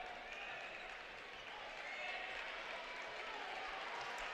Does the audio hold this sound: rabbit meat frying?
no